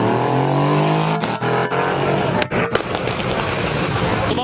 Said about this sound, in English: The bubble car. Sounding good.